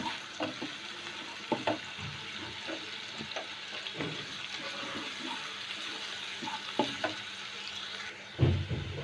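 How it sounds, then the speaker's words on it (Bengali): Chopped onions fry lightly in a pan for chicken kofta curry, a quiet soft sizzle broken by stirring clicks and spatula taps. "পেঁয়াজ কুচি দিয়ে দিলাম পেঁয়াজটা হালকা করে ভেজে নেব"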